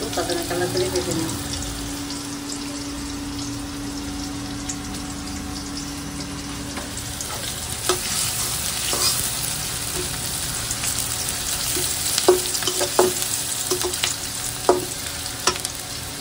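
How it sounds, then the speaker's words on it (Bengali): Sliced onion fries in a hot pan while being browned, giving a continuous sizzle broken by scraping stirs and a few sharper clatters of the spoon against the metal toward the end. "পেঁয়াজটা আমি এখন একটু বাদামি কালার করে ভেজে নিই"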